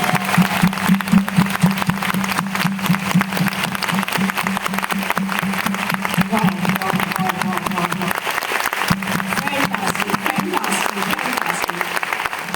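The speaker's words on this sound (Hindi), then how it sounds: "तो इस एनर्जी के लिए एक बार जोरदार तालियां हो जाए, जोरदार तालियां।" Loud, enthusiastic applause from an event crowd in Ahmedabad, a dense continuous clatter of many hands lasting over twelve seconds, with a low steady hum running underneath.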